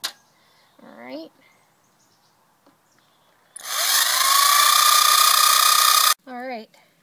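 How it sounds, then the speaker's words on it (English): A power drill bores pilot holes into a wooden handsaw handle, one loud whining burst lasting a few seconds, bracketed by brief quieter tool sounds. "So I'm going to drill some holes in there so that it doesn't split."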